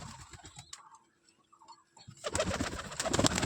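Pigeons coo softly in a loft, their low murmurs fading in and out before a louder burst of rustling and scuffling noise takes over toward the end.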